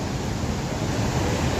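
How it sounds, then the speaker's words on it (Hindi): The Saraswati river at Mana village rushes fiercely, a dense, continuous roar of turbulent water close by with no voices. "ये देखिए सरस्वती नदी का ये रौद्र रूप है"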